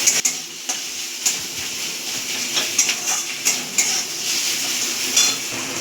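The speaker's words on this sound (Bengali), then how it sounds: "এবার আমি আদা রসুন আর লঙ্কা বাটাটাও এর মধ্যে দিয়ে দেবো ফোড়নে দিয়ে। এবার সব কিছু আমি একটু ভাজা ভাজা করে নেব।" Onions frying with ginger, garlic and chili paste in hot oil, a bright continuous sizzle close by, punctuated by regular clicks and scrapes of a spatula stirring in the pan.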